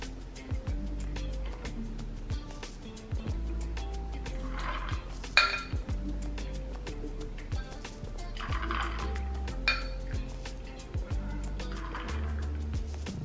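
Liquid is poured into a shaker cup packed with ice, vodka and watermelon juice for a Moscow mule, giving faint gurgling and glugging pours with a few clinks against the ice.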